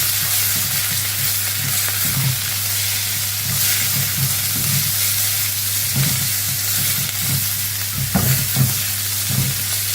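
Mint and coriander leaves frying and being stirred in a pan, a steady close sizzle with repeated soft stirring scrapes and clinks throughout, no talking.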